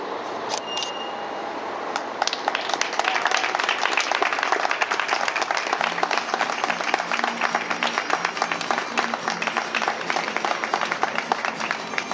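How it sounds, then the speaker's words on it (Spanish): A crowd at a dance performance against sexist violence claps loudly, starting sparse and swelling within two seconds into a dense, steady ovation of many hands that holds evenly to the end. "Un aplauso muy fuerte."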